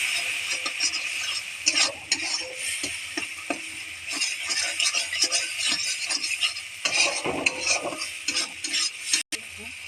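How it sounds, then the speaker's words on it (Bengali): Eggplant cooked with chili powder and spices is stirred in a pan, a spatula scraping and tapping in irregular strokes over a soft background sizzle. "এই ঝালের গুঁড়ো দিয়ে ভালোভাবে এরকমভাবে নেড়ে নিতে হবে।"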